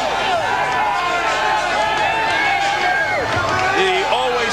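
Boxing crowd in an arena reacting as three-time heavyweight champion Evander Holyfield walks to the ring against John Ruiz, a steady dense roar of cheering and chatter with occasional whistles throughout.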